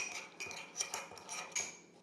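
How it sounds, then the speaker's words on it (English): A spoon stirs gelatin into a tablespoon of cold water in a cup for a raspberry cheesecake, producing quick, light clinks and scrapes against the cup in an uneven close rhythm. "I've got a tablespoon of cold water in this cup, and we're going to stir that into it"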